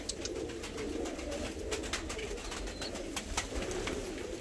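Fancy pigeons in a crowded loft coo continuously, with soft overlapping low calls and a few sharper chirps and wing or perch clicks nearby, no talking.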